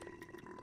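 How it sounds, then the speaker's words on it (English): A single long, throaty burp from a person, sustained and fairly close, with no talk over it. "that was a big burp I just did"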